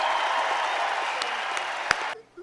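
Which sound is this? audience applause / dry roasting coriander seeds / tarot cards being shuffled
audience applause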